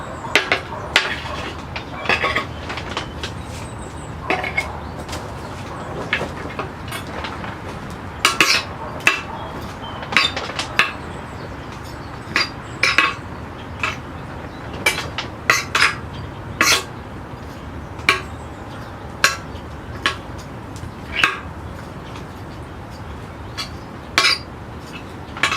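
A rake scrapes and combs through the roots of an Austrian pine bonsai, making repeated sharp scratchy clicks and rasps at an uneven rhythm, close by with no talk.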